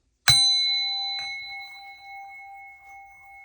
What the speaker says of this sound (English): watch your ears, and here comes the bell.